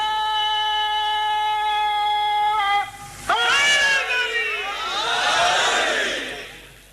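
A majlis audience erupts into loud chanted slogans, a swelling mass of voices rising abruptly after a sustained tonal sound and carrying on for several seconds.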